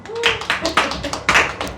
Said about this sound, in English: one person just clapped the table